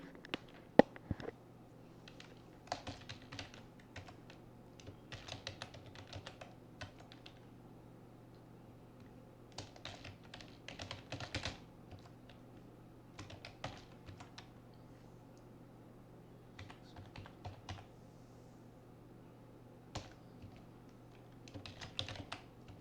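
Computer keyboard typing while entering names into an MS Word mail merge list, with intermittent bursts of quick, light key clicks separated by pauses over a low steady hum.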